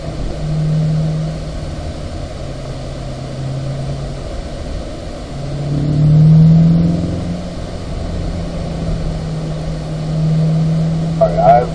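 Chevrolet C8 Corvette engine on a race track at driving school, a steady droning hum that swells as the throttle opens again after braking, under continuous talk from the driver.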